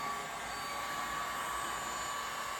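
A handheld heat gun blows a steady, loud hot-air roar while drying and baking paint on a 2007 Kawasaki KX250 two-stroke motocross bike part, constant with no talk.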